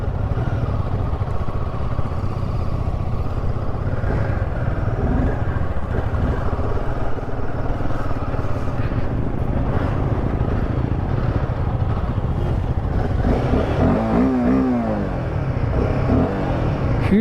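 A vehicle engine runs steadily while warming up so it will not stall, a continuous close low rumble with a slight rise in revs near the end and no talk.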